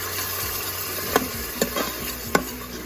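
Indian-style pasta with tomato ketchup is stirred in a pan, a spoon knocking the pan several times at uneven intervals over a soft continuous sizzle.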